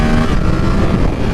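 A 2023 Yamaha R7 with a BT Moto ECU flash revs hard under throttle in first gear, a loud, dense, unbroken engine roar that holds steady for the whole moment with no talk over it.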